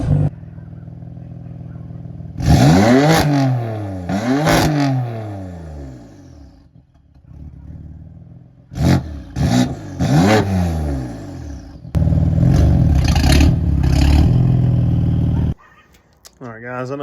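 A BMW F82 M4 with a single mid pipe exhaust revs hard in repeated sharp blips, rising and falling loudly up close, then holds a sustained higher rev before cutting off.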